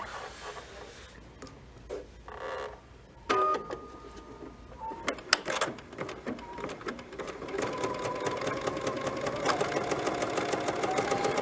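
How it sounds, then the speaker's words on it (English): A sewing machine stitches a quarter-inch patchwork seam. It starts in short runs, then settles into a steady, fast, close mechanical whir that builds toward the end. "So now I'll go to the machine and I will sew a quarter of an inch seam allowance."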